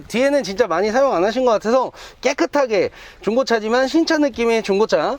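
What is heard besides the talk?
No distinct noise like a dog, phone or traffic.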